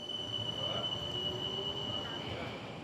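Metro Express light rail train in Mauritius running toward Phoenix, a steady loud rolling rumble with faint wheel squeal and a sustained high tone throughout, heard from close by.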